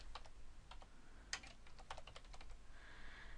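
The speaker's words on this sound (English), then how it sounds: "If I start to type in a question" Quiet, irregular clicking of fingers typing on a computer keyboard, short runs of keystrokes with brief pauses, close and alone.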